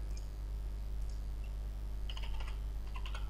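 Quiet keystrokes on a computer keyboard as data is entered into a web form, a scattering of soft clicks over a steady low hum, growing busier toward the end.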